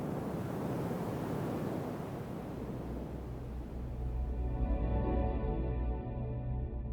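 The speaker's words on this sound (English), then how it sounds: "one example being random filter modulation for wind sounds" Synthesized wind built with random filter modulation: a steady, loud broadband whoosh that swells and shifts, then thins into a darker rumbling tone toward the end, with no talking.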